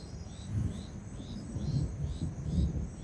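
Low, rolling thunder rumbles through steady rain, swelling in several slow waves over a few seconds at a moderate distance, with no voices.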